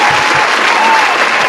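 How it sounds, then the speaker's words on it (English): An audience applauding special guests, a dense burst of clapping that fills the room, loud and continuous for a moment. "We had to just give our special guests a round of applause"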